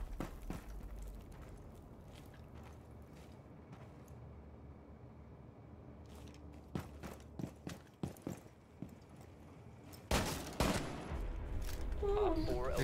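Gunfire in the video game Rainbow Six Siege comes as a scattered series of faint single shots, then one loud, sharp burst near the end, over quiet background noise.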